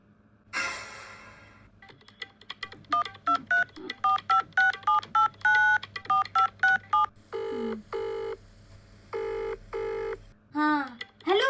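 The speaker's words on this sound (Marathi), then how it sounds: "त्या सारंग बाबांना फोन करते" A phone keypad dials a number in a long run of quick, evenly spaced touch-tone beeps, followed by several longer ringback tone bursts and a brief warbling ring at the end, all close and clear with no talking.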